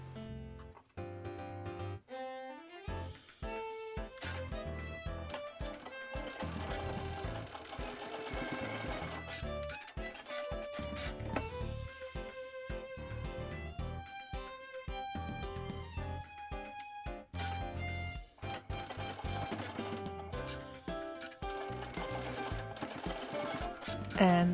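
A sewing machine basting D-ring loops onto a duffle bag, stitching in quick mechanical bursts separated by short pauses, close and steady, with background music playing under it.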